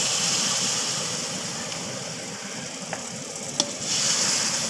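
Milk poured into a hot pan of roasted semolina and jaggery halwa, giving a steady, close hissing sizzle with a few small clicks and pops, no voices.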